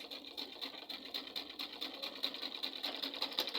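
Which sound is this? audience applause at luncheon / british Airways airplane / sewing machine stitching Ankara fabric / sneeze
sewing machine stitching Ankara fabric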